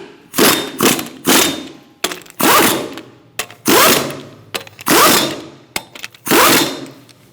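A wrench tightens the lug nuts on a 2002-2006 Toyota Camry wheel in a star pattern, giving a series of loud, close metallic clanks and thuds in repeated bursts with short pauses between.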